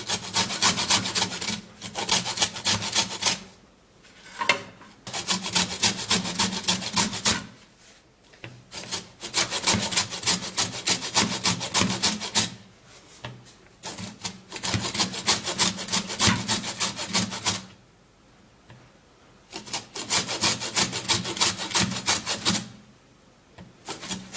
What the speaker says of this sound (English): I'm going to be grabbing my grater, and then I'll be creating this lemon zest. So I have to grate it.